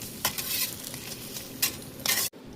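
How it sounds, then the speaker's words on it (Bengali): Jalebi frying in oil crackle and sizzle loudly up close in several bursts as they are turned over, with light utensil clinks, and the sound stops abruptly at the end. "উল্টে পাল্টে লাল লাল করে ভেজে নিচ্ছি"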